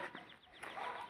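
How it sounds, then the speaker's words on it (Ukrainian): Birds chirp and call in short bursts outdoors on a street in Beryslav, Ukraine, fairly faint, with a soft background hum and no voices. "Ви чуєте, як співають пташки"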